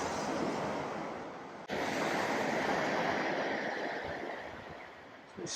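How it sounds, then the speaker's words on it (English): Sea waves roll onto the beach at Walberswick in a soft continuous wash of surf, with gentle swells in loudness and some wind buffeting the microphone. "The sound of the sea."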